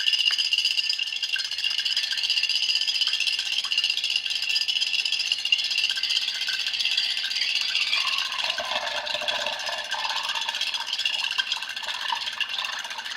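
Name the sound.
motor running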